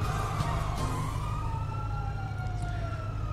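Police convoy sirens in a GTA roleplay game, a steady wailing siren sweeping slowly downward over a constant low engine and traffic rumble, continuous and moderately loud with no talk.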